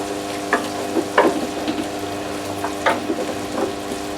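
Onions fry in hot fat in a pot for beef bourguignon, giving a steady close sizzle broken by a few soft stirring knocks and clatters.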